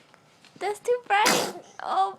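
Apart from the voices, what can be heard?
baby sneezing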